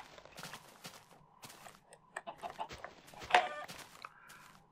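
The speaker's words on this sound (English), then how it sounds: "it is so hard to take out a chicken with a sword" Chickens clucking in the Minecraft video game, scattered short clucks and squawks with one louder burst near the end, mixed with other small game noises and no talk.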